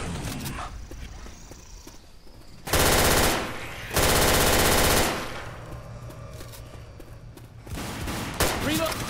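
Gunfire in the zombie shooter Left 4 Dead 2, with two loud sustained bursts of rapid automatic fire standing out over quieter game sounds and scattered lighter shots.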